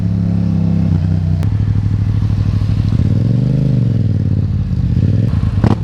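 A Yamaha FZ-07 motorcycle engine runs loud and close throughout, a steady drone with a clear rise and fall in pitch as it revs up and back down mid-ride.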